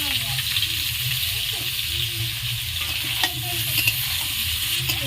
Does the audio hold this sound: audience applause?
no